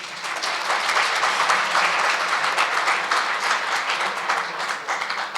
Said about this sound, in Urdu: اپنے لیے ذرا تالیاں بجائیے